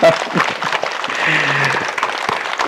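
Audience clapping at a Dhyana Saptaham gathering in Raichur, a dense, close burst of applause running the full length, with a speaking voice mixed in over the claps.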